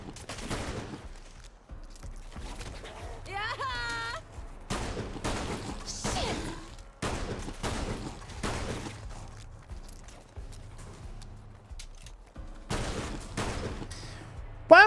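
Rapid gunfire from the video game Fallout London crackles in sharp repeated bursts, loud and close, with brief pauses and clattering impacts between volleys and a short voice cry partway through.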